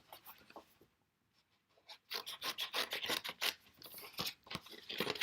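Scissors trim out a stamped, heat-embossed floral card piece. Close, rasping snips and paper rustles come in a steady run after a brief quiet gap.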